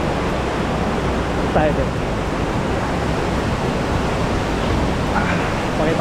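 Pulang Bato Falls near Dumaguete roars as a steady, broadband rush of falling water, loud and constant throughout, with brief speech over it.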